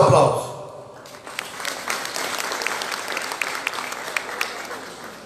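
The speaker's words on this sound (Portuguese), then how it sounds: "Nosso aplauso." An audience at a civic ceremony during the Festa da Amizade in Assaré applauds after the mayor is introduced, a burst of clapping rising after a brief voice and continuing steadily with sharper individual claps toward the end.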